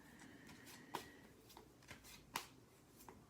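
A deck of Romance Angels oracle cards is shuffled by hand, making soft, steady riffling and slapping with a few sharper taps, close and quiet, and no one talks.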